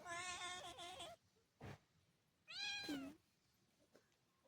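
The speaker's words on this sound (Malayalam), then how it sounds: "നമ്മുടെ പൂച്ചയാണ്." A house cat gives three separate meows, two of them longer and drawn out, close and fairly quiet in a calm room.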